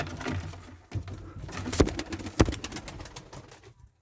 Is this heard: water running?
no